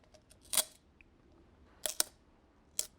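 Scissors cut duct tape on a recycled plastic water bottle being made into a pencil case, a few sharp close snips spaced apart over quiet background.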